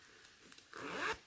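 A small zippered pouch inside a bag is unzipped close by. Faint rustling builds into one quick, raspy zip pull.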